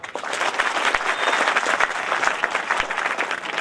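An audience applauds officials at a hospital campus gathering, a lively burst of many hands clapping at close range with uneven, crackling peaks and no speech over it.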